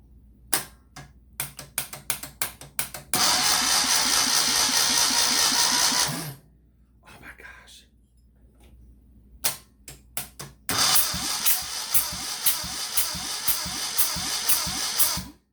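Starter motor cranking the engine of a 1973 Moto Guzzi Eldorado motorcycle in two loud, sustained bursts of rapid mechanical chugging, preceded and separated by clicks and clunks of handling.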